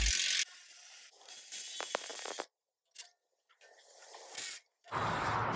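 Ratchet wrench loosening 13mm bolts on the under tray of a Range Rover during a service, giving bursts of quick clicking pawl sounds close up, broken by pauses of near silence and a few metallic knocks.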